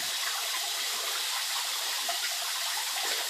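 Tap water pours steadily into a 350 litre Juwel Trigon planted aquarium, a close, continuous hissing gush with no breaks and no voices.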